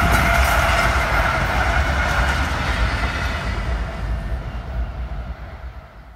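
Union Pacific AC44CW, ES44AC and SD70M locomotives roll past on the rails near Elkhorn, with loud rumbling, rhythmic clicking wheels and a broad roar that slowly fades as the train moves away.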